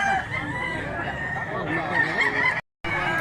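A gamefowl stag rooster crows at a rooster sale in Mantalungon, Cebu, a long, loud drawn-out call against background chatter and other birds before a brief cut of silence.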